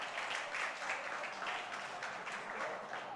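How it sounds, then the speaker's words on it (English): A festival audience applauds steadily and continuously, a dense wash of many hands clapping at fairly close range with no pauses and no voices. "Big round of applause for that."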